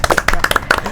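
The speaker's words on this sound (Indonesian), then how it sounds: "Tepuk tangan dulu buat OSIS kita." A group at a high school student council event claps in quick, uneven bursts. The applause is close and fairly loud for about a second, with faint voices mixed in.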